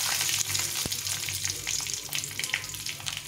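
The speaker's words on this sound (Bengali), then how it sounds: "দিয়ে ধনেপাতাটা ভেজে নেব" Green chilies and coriander leaves with nigella seeds frying in oil, a steady close sizzle with a few sharp pops and light stirring clinks, no voices.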